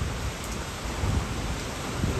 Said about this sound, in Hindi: बड़ी तगड़ी बारिश शुरू हो गई है तगड़ी बारिश